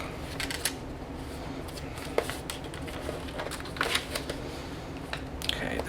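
Paper being folded and creased for a handmade scrapbook page, with soft crinkles, rustles and a few sharper taps scattered over several seconds, close and fairly quiet.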